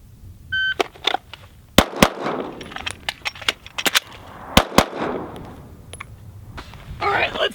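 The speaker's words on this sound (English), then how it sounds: "It's gonna be predictive shooting and just as fast as I can get shots on target." Pistol shots fired as fast as possible at targets on a practical shooting range, a dozen or so sharp loud cracks in quick irregular bursts, with faint electronic beeps and background noise between them.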